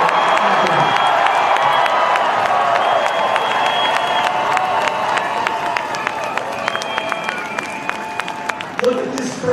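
A large street crowd at a downtown Chicago march cheers, shouts and claps, a continuous loud roar with scattered sharp claps and whistles throughout.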